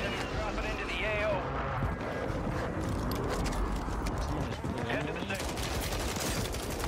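Gunfire in Warzone 3, a player being shot while dropping from the sky, with dense rapid shots running steadily under a busy game mix and voice chatter throughout.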